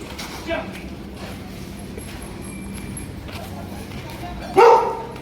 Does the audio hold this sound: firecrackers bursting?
no